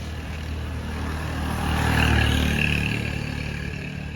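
A vehicle passes by at moderate distance, its low engine rumble swelling to a peak midway and then fading away.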